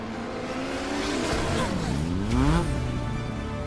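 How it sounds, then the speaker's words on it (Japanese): A motorcycle engine in Final Fantasy 7 Remake revs and roars close by, its pitch climbing and sweeping up and down in a continuous rush, with faint game ambience underneath. "上に置いてあったバイクだね。"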